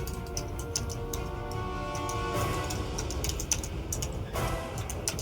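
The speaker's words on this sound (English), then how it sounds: "mute yourself, your keyboard" Someone types on a computer keyboard during an online tabletop game session, quick irregular clicks and clacks close to the microphone over a faint steady hum, with no talking.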